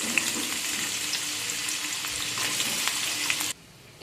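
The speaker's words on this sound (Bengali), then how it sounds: "একে একে সব সবজিগুলো ভেজে নেব প্রথমে গাজরটা ভেজে নিচ্ছি" Carrots fry in hot oil in a wok, giving a dense, steady sizzle with occasional stirring scrapes close up, until the sizzle cuts off abruptly near the end.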